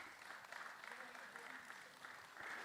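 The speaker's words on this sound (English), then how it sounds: "Let's give him another round of applause," Applause rolls through the hall at an HSSE safety forum, steady moderate clapping from the audience under faint voices, rather distant and even throughout.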